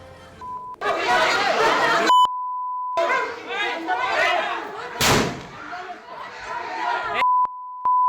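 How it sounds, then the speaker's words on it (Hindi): A man fires a gun from a balcony, caught on a phone recording: one sharp, loud bang cuts through overlapping voices and censor beeps. "इसमें एक व्यक्ति गोलियां चला रहा है।"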